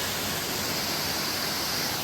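Kings Falls on Kings Creek roars as a steady, dense rush of falling water, close and constant, with no voices.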